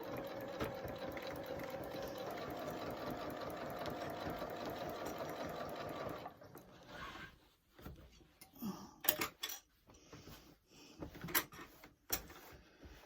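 A Singer 8500Q sewing machine stitches a circle quilt, a fast steady whirring run of needle strokes for several seconds that stops abruptly, followed by scattered clicks and handling knocks, close up and fairly quiet.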